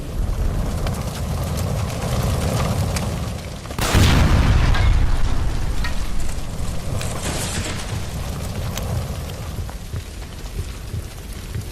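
A gas line explodes inside a building in LA Noire, a sudden loud boom near four seconds that swells over a steady rain-like hiss of fire and debris, then rumbles on and slowly settles.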